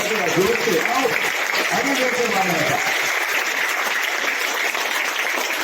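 A crowd at a school science exhibition applauds record-making children and their parents, a dense wash of clapping that starts mixed with low voices and continues steadily and loudly.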